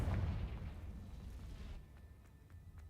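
Confringo blasting spell explosion in Hogwarts Legacy, a deep rumbling boom that starts loud and fades over about two seconds, followed by a few faint crackles.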